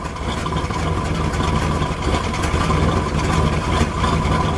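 A 1966 Pontiac GTO with a 389 engine and four-speed idles steadily, a loud, close, even rumble held for several seconds with no voices over it.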